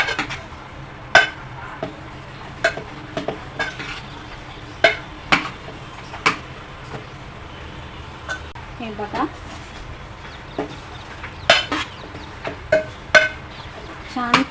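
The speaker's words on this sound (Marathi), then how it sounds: "सगळं मिक्स करूया गुळ आणि चनाड्या" A spoon scrapes and clacks against a pan while jaggery and chana dal are mixed together off the heat, giving sharp intermittent knocks at an uneven rhythm with someone talking throughout.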